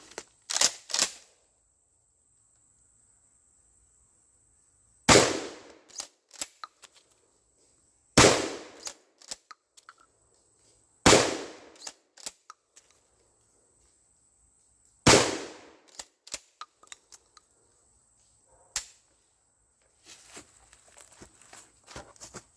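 Shotgun blasts fired at a bucket and a cinder block outdoors, four or five sharp, loud reports spaced a few seconds apart, each ringing out and decaying into quiet, with small clicks and handling noises between.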